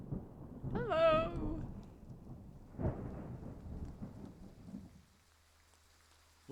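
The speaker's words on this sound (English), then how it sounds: "Rain! Honest to goodness, rain!" Rain and thunder in the video game Triangle Strategy: a soft steady rain hiss under a low rumbling roll of thunder that swells twice, with a brief tonal chime over it, then fades to near silence.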